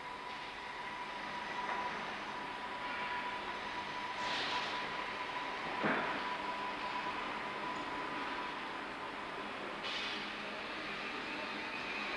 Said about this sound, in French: Un simple chariot arrimé sous le TGV lui permet de s'introduire dans l'atelier de reprofilage.